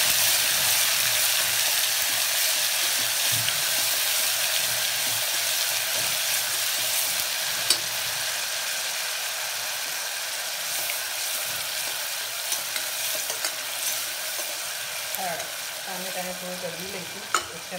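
Tomato frying in a pan over low gas heat while being stirred, a loud, continuous close-up sizzle with scraping stir sounds throughout and faint talk in the background.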